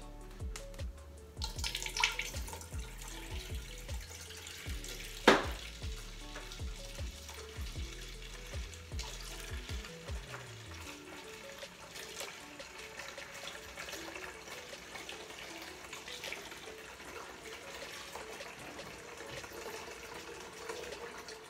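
Homebrew IPA being siphoned into a pot, heard as steady, close liquid trickling and gurgling with a few clunks, then a softer continuous flow of running liquid, with no talking.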